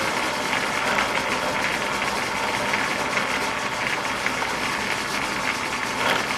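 Steady, continuous scraping chatter of a cutting tool pressed hard against a brass clock fusee on a lathe for an English skeleton clock, a dense rough whir holding level throughout with no talk.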